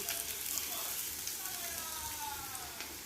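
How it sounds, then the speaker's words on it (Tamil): Fish frying crispy in hot oil, a dense, continuous close sizzle and crackle with scattered pops, steady throughout. "இப்போ நல்லா மொறுன்னு ஃபிஷ்ஷு ஃப்ரை ஆகிடுச்சு"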